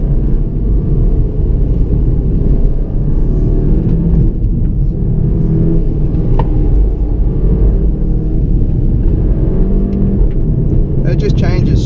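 From inside a 2016 Volkswagen Golf GTI on the road, a steady loud engine and road rumble drones on with slight shifts in tone as it accelerates through quick gear changes, with no talk heard.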